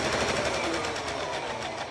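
A sewing machine stitches around a paper-pieced snowman quilt block, its needle chattering in a fast, steady, close-up rhythm for the whole moment.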